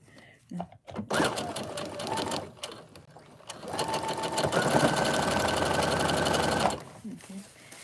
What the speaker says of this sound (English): I'm gonna do a lock stitch. This machine has a lock stitch.